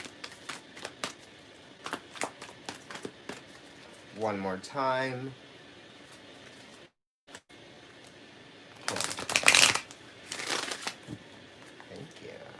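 Tarot cards being shuffled in short bursts of riffling and flicking, close and fairly soft, with a brief spoken phrase in the middle and a couple of louder shuffles near the end.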